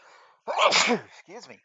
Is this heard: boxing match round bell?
no